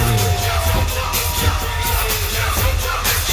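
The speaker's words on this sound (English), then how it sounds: "let's give them a big round of applause too!" Guests at a wedding reception at the Bhakta Samaj Center cheer, yell and whoop loudly as a crowd, with scattered claps and bangs running steadily throughout.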